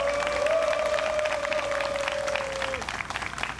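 A crowd at a Korean power-industry labor union rally claps vigorously throughout, joined by a sustained high shout or whistle that holds for a couple of seconds before dropping away.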